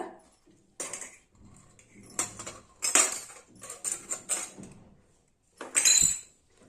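Silver puja vessels and plates clink and clatter in bursts while being rinsed and handled, with bright metallic knocks separated by brief quiet gaps.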